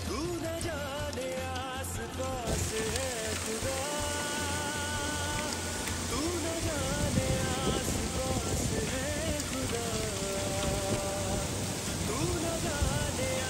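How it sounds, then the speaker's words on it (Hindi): Heavy summer rain falls steadily in a dense patter, with hail also coming down. Scattered chirps and buzzing sounds carry on faintly over the rainfall. "बिल्कुल वैसे बारिश हो रही है।"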